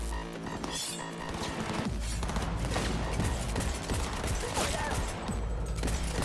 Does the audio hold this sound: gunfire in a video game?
yes